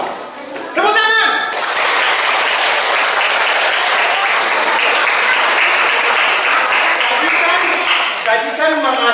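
A crowd claps loudly and steadily during a mangrove-themed storytelling session, with a voice speaking briefly just before the applause starts and again as it fades out.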